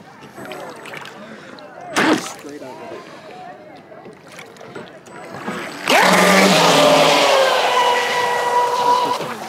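A small RC boat motor on a lake whines and buzzes faintly, then surges into a loud, high-pitched rising whine at full throttle, with voices speaking over parts of it.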